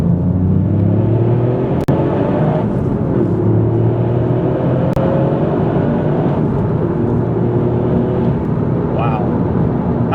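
Toyota GR Yaris hatchback drives hard on an open road, its engine droning and rising in pitch through the gears with a steady rumble of road noise, under ongoing talk from inside the car.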